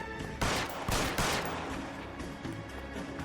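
Gunfire in the video game Detective Natsu: a few sharp, loud shots near the start followed by a fading rattle and lighter scattered reports, close and dominant without speech.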